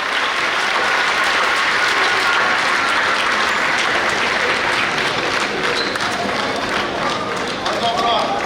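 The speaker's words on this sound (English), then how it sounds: "A sounding round of applause to celebrate." Loud, sustained applause from a large audience at a symposium commemorating 150 years of the Sagrenti War, a dense continuous wash of clapping filling the hall without letup.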